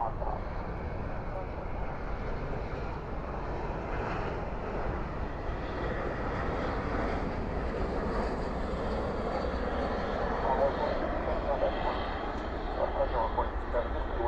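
An airliner landing at Dallas Fort Worth airport with spoilers raised and thrust reversers deployed, a sustained roaring jet rumble at moderate distance under radio-style voices talking throughout.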